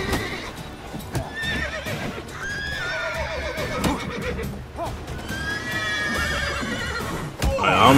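Glitching horses in The Witcher 3 neigh and whinny repeatedly over a busy game soundscape, the calls rising and falling across the whole stretch, loud and close.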